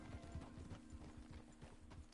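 A horse's hooves clip-clop in a steady, even rhythm, faint and somewhat distant, with no talking over them.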